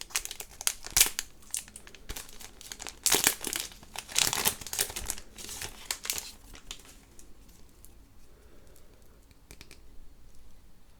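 Foil wrappers of One Piece EB03 card booster packs crinkle and tear as they are opened, a busy run of close rustling and ripping that settles into quieter handling.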